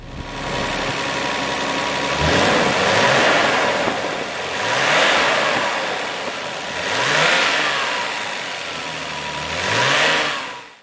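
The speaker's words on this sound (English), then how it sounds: "So once you start the car, the fan's on. It's on pretty much all the time. It, however, sounds horrific." A Nissan Skyline R32 GT-R idles and then revs up four times, its belt-driven viscous fan adding a constant whoosh. Each rev rises and falls in a loud, close surge, and nobody speaks.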